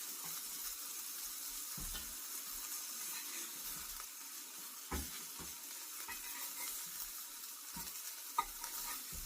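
Flounder frying in a hot pan gives a steady broadband sizzle, with a few brief scrapes and clinks of stirring scattered across the clip. No one is talking.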